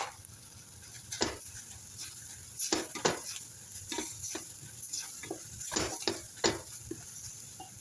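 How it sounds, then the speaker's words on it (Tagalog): A spiced mixture for an Arab-style kabsa is stirred in a pan over gentle sizzling, with irregular scraping and clanking of a utensil against metal, close and moderately loud, no talking. "Halu-haluin hanggang mapantay yung kulay."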